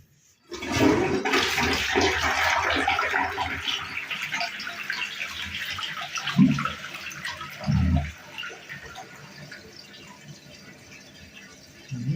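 A wall-hung toilet with a tornado-style flush discharges, starting with a sudden loud rush of swirling water that gradually tapers into trickling refill, with a couple of low thumps and brief murmurs partway through.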